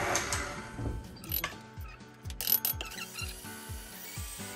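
A stand mixer with a whisk attachment mixes all-purpose flour for homemade donut dough, giving a steady mechanical whir with rhythmic ticking and clicking at moderate volume, with no talk.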